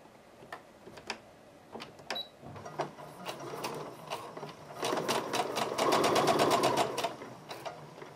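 A sewing machine stitches two yellow fabric pieces edge to edge, starting with scattered single ticks and then running into a fast, steady, rattling burst before slowing again.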